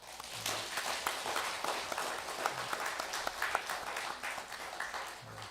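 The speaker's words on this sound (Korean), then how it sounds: "우리 간증해 주신 장로님 또 권사님께 너무 감사해서 먼저 박수를 하겠습니다" A church congregation applauds during a Korean worship service, a dense, moderately loud patter of many hands that keeps an even pace throughout.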